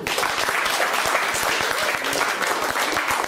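Applause from the crowd at a sustainability event as the next presenter, from a student enterprise group, is called up; dense, steady clapping fills the room at close range for the whole stretch, with faint voices underneath.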